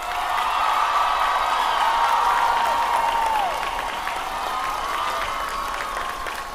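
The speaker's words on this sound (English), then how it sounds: "please join me with a round of applause in congratulating this year's valedictorian" Audience applause for the valedictorian at a high school commencement, a steady wash of clapping with scattered cheers that holds for several seconds, with a sustained tone sounding above the crowd.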